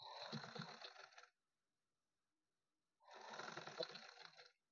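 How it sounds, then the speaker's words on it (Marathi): A sewing machine stitches lace onto a neckline in two close, steady whirring runs, each just over a second long, with a silent pause between them. "त्याच्यावरून सनी आपल्याला अशी शिलाई करून घ्यायची आहे."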